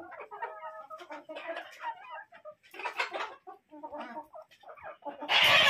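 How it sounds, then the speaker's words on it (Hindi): Kadaknath and Sonali chickens on a small farm cluck and cackle in repeated bursts close by, with a louder, noisy flurry near the end. "ये कड़कनाथ मुर्गी, देखिए ये कड़कनाथ मुर्गा।"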